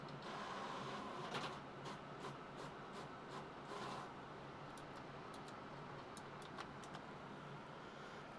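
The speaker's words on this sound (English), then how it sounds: "Is that printing?" An office printer running a document through, with a steady soft mechanical whir and a series of light ticks and clicks along the way, fairly quiet throughout with no talk.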